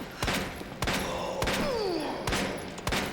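Gunshots ring out in Resident Evil 2 (2019) as a handgun fires at a creature, four sharp, loud reports spaced roughly evenly over a few seconds against a low rumbling backdrop.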